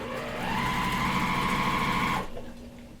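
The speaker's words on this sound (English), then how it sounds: "I'm going to sew on this first, and then I'm going to chain piece off the scrap piece of fabric" Sewing machine chain piecing quilt fabric onto a scrap piece, a quick buzzing whir that ramps up, runs steadily for about two seconds, then stops abruptly, close and moderately quiet.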